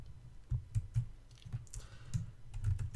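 Typing code on a computer keyboard during an Android programming session, with a run of irregular, close key clicks and taps heard alone with no talk.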